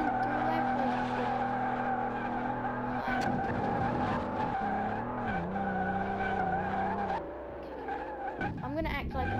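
Tires squeal in a long, steady skid as a car slides along in a PlayStation 4 driving game, with engine drone underneath, a brief dip near the end, and a voice faintly present.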